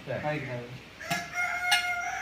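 A chicken crows and clucks nearby in a short outdoor burst, a rising call followed by sharp clucks over faint background noise.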